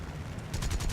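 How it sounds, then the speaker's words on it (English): A6M3 mod 22 fighter's cannons fire a short burst in War Thunder, a close, loud rattle of rapid shots that breaks in halfway through over a low drone, with no talk. "Yeah, the Japanese have the best cannons in this game."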